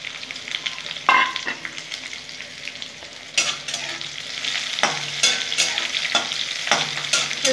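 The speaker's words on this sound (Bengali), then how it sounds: "রসুনটা একটু ভাজা ভাজা হয়ে গেলে আমি পেঁয়াজগুলো ভেজে নেবো" Chopped onions and garlic fry in hot oil for mustard greens, a close, continuous sizzle broken by clanks and scrapes of a spoon stirring the pan, with sharper bursts as the mixture is turned.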